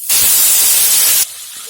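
Rohu fish head frying in hot oil in a pan, a loud dense hiss that runs steadily for over a second and then cuts off sharply, leaving a quiet background.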